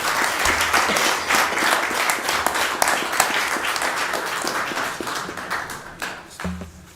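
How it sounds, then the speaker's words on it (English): A room full of people at a city council meeting breaks into a round of applause, dense steady clapping for several seconds that thins toward the end, with a brief murmur of voices underneath. "Another round of applause for the Ron Morin Memorial Field."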